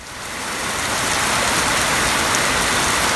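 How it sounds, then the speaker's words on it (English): Heavy outdoor rain pours down steadily over a garden, a loud, dense hiss of drops swelling in the first second and then holding constant with no talk. "It's kind of funny how the big clouds passed and then I got the heavy rain."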